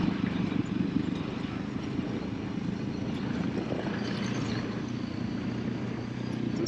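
Honda CRF300L dual-sport motorcycle coasting in third gear on a mountain trail, giving a steady low engine drone with rumbling wind and road noise throughout, fairly loud and continuous with no voices.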